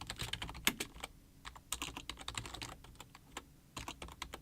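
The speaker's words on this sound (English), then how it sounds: "You're going to have to type this command here" A command being typed on a computer keyboard into a Linux terminal: a quick, irregular run of close, crisp key clicks with short pauses between bursts and no talking.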